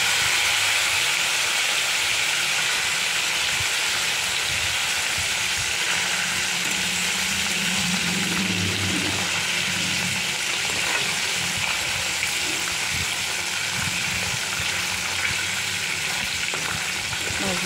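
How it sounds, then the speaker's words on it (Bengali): Pieces of shol fish fry steadily in a pan, a constant loud sizzle and hiss running the whole way, with soft scraping from stirring and turning and no voices. "মাছগুলো নেড়ে চেড়ে ঠিক করে দিচ্ছি।"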